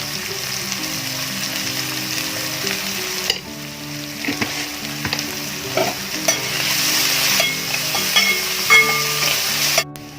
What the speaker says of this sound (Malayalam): ഉള്ളി നന്നായിട്ട് വഴണ്ട് വന്നിട്ടുണ്ട്.